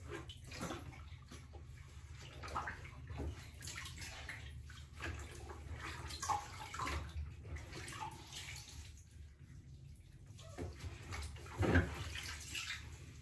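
Water splashes and sloshes in a small baby bathtub at close range, with intermittent pours and gentle movement throughout, no talking.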